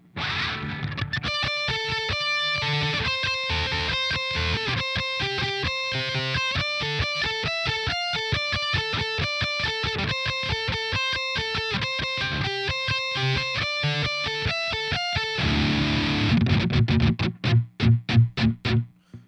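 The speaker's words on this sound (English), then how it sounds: "the lead guitar part to the intro will sound like this" A distorted electric guitar plays the fast, rhythmic picked intro riff, loud and steady, ending with a few heavy chugging strums.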